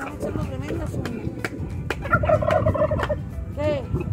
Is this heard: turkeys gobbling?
yes